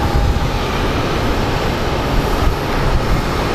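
Airliners depart Phoenix Sky Harbor airport, a loud, steady low roar of jet engines that holds without break and with no speech.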